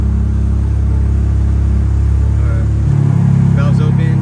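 A BMW G82 M4 with an SST valve controller and downpipe mini-cat idles with its exhaust valves closed, a steady, loud low rumble that swells slightly toward the end, with voices faintly underneath.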